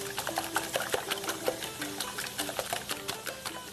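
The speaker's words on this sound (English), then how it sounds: "I'm just going to use a whisk to basically just whisk them together" Eggs being beaten by hand with a whisk for an asparagus torta, giving a steady run of quick, close rhythmic clicks and taps against the bowl with no talking.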